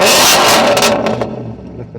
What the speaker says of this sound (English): while it's still in neutral, I'll just give it a blip